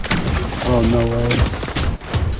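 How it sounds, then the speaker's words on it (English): Rapid burst of gunfire from the Fortnite video game, dense cracks running through the clip alongside a tonal game sound, with an excited voice talking over it. "He's getting shot by someone else."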